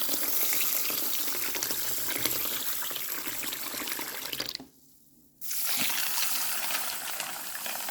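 Water pours and splashes steadily while black cumin seeds are washed for soaking, a close, continuous rushing flow that cuts out briefly for under a second and then resumes.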